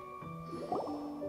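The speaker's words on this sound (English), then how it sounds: "Voy a recoger agua." Water being gathered in a crafting video game, a short close splashing and dripping squish with a brief gurgle over faint steady background tones.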